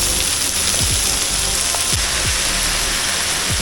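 Chopped onions with cumin sizzle loudly in hot oil for a bitter gourd fry, a dense, steady crackle with occasional scrapes of a stirring spoon, and no voices.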